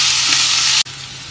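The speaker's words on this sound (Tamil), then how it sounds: "அடுத்ததாக இந்த வேக வச்சு பாகக்காயும் எடுத்து இதில் கொட்டி ஒரு வதக்கு வதக்குவோம்." Boiled bitter gourd sizzles loudly in a hot pan as it is sautéed for an anchovy kurma, a steady close frying hiss that cuts off abruptly near the end.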